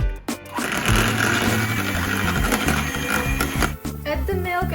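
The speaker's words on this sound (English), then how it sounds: "Mix the eggs using the mixer." An electric hand mixer beats eggs for batter in a bowl, its steady motor whir close and loud throughout, with brief dips and clatters of the beaters.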